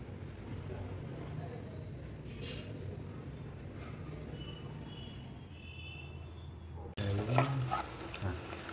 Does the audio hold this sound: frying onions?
yes